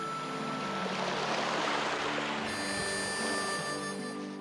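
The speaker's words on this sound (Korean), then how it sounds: "오랜 세월 파도에 구르고 깎인 둥그런 몽돌들이 아름다운 자연의 선율을 선사합니다." Waves wash over rounded, smooth pebbles on a pebble beach on Baekyado island, Korea, producing a continuous rushing, rattling hiss at a steady, fairly close level with no voices.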